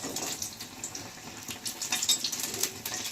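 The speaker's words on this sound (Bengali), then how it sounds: "আমার বেগুনি ভাজাটা একটু দেখো" Battered eggplant fritters deep-fry in hot oil with a bright, hissing bubble that rises and falls in uneven surges, close and moderately loud with no voices.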